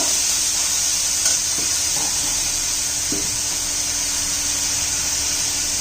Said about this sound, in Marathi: टोमॅटो आता चांगला परतून घेते मऊ होईपर्यंत